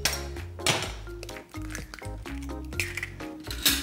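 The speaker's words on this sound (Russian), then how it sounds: "Первым делом нам нужно разбить 2 яйца в отдельную емкость" Eggs are cracked against a hard edge with sharp taps and clicks, followed by soft wet splats and clinks of a bowl, close by.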